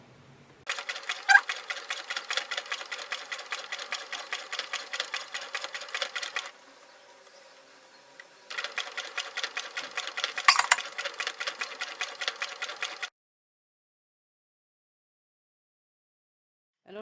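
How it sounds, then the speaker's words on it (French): A sewing machine stitches fabric for a cloth photo album, running at a steady rapid rhythm for about six seconds, pausing briefly, then stitching again before stopping; close and clear, with no talking. "j'abaisse mon pied et je commence à coudre tout doucement"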